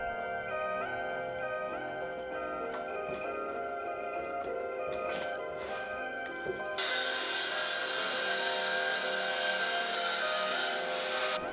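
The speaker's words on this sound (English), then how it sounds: "I'm cutting about a 30-degree angle with my circular saw" Woodworking on a pine desk end, where a circular saw guided along a clamped wooden fence cuts a 30-degree chamfer. Scattered scraping and knocks come first, then a loud, steady, bright saw whine fills the second half.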